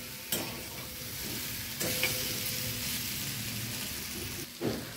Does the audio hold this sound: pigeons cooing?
no